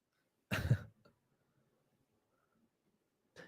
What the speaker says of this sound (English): I'm gonna cough and I want to mute it